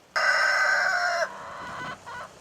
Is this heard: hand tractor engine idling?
no